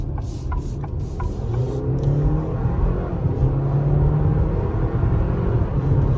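A small SUV engine rumbles and accelerates from inside the cabin, pitch rising steadily under road noise, with a few light clicks early on.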